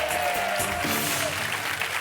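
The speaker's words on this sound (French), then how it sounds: "Isabelle, la deuxième sélectionnée, on l'applaudit fort." Studio audience applause on a French game show, steady and full for about two seconds, with a faint sustained tone running beneath the clapping.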